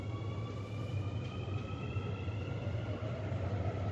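Steady low rumble and whine of a driverless metro train pulling away inside a subway, continuous and fairly loud with no talk over it.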